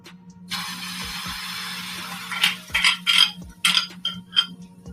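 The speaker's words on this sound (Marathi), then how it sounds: "आता हे बॅटर आपण पॅनवर टाकू." Batter is poured onto a hot pan greased with a little ghee, producing a broad hissing sizzle that swells and fades in short uneven bursts along with light scraping, over a low steady hum.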